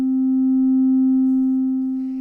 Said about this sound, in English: Now that's a pure sine wave with no overtones.